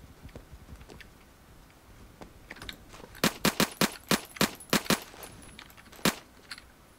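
Gunfire in the Roblox shooter Phantom Forces: after faint scattered pops, a quick run of about eight sharp shots rings out in an uneven rhythm, then one more lone shot and a quieter tail.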